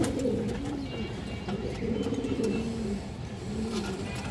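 A female Sabchila high-flyer pigeon coos in low, repeated rolling phrases, close by, over a steady background hum with faint distant noise.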